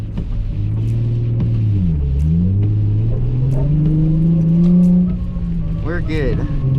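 A Nissan 350Z is floored in second gear on wet roads, its engine droning loud and close, pitch rising, dipping with a shift, then climbing again, with someone talking over it.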